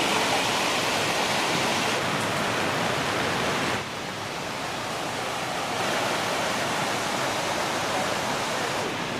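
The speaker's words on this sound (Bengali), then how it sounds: "দেখুন রাস্তার উপর দিয়ে কীভাবে জলধারা পার হচ্ছে দেখুন" A stream of water runs across a road near Devkund waterfall in Odisha, a loud, continuous rushing roar that stays steady throughout, close by and without voices.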